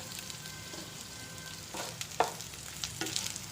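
Three cut dried red chillies frying in oil make a soft, low sizzle with a few scattered crackles and light stirring taps, fairly faint and heard alone.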